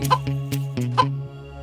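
A hen clucks in a quick series of short, sharp clucks, about half a dozen in under two seconds, close and clear with no voices.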